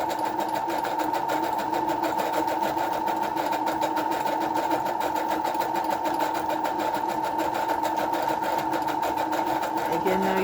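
A sewing machine stitches a curved pattern on handmade Christmas ornament tags for a junk journal, giving a steady, close, unbroken motor whir with rapid needle chatter and no pauses.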